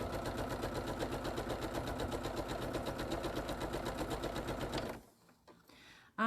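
A sewing machine stitches quilt seams for triangle wildlife panels at a quarter-inch seam, running in a fast, steady, close rhythmic whir for about five seconds before stopping into near silence.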